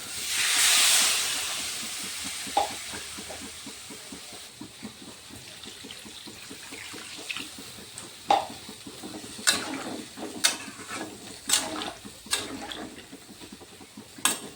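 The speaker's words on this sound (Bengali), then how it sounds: "এখন জল দিয়ে দেব" Water poured into a hot pan for Bengali rui fish curry gives a brief loud sizzling hiss at first, followed by quieter bubbling and occasional clinks of a utensil against the pan.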